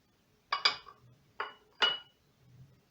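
A spoon stirs cake batter with a freshly added egg, clinking sharply against a bowl in four or five separate strikes with quiet pauses between them, close up and with no talking.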